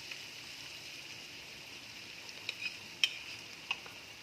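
Chopped green bell peppers are stirred with gram flour in a pan, giving soft scraping and a faint sizzle punctuated by a few light clinks of the spoon.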